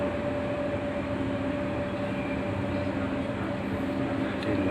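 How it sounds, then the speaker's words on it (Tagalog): A metro train runs at speed on an elevated line past houses and buildings, giving a steady, loud rumble with a constant tonal whine throughout and no pauses or talk. "Ito yung lakas ng train."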